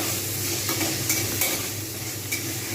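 Continuous close sizzling of tomatoes softening with salt in a covered pan, with a few light spoon scrapes as they are stirred; steady and loud, no voices.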